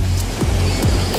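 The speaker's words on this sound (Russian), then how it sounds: "Да, вот смотри, какие волны." Loud stormy sea waves rush and crash onto rocks at a beach in Mahmutlar, Turkey, in a continuous roar of surf, with gusty wind buffeting the microphone.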